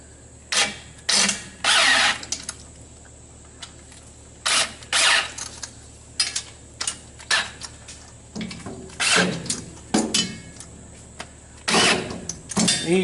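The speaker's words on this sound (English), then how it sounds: "I'm just using my quarter cable electric driver just to get everything snugged up there" Quarter-inch corded electric driver snugging header bolts on a 1962 Comet, heard as repeated short bursts of whirring and clicking, close and loud with pauses between.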